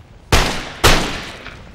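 Musket volley fire in the Empire: Total War video game: two sharp, loud massed gunshot bursts about half a second apart, each trailing off in a rumbling decay, with no talk.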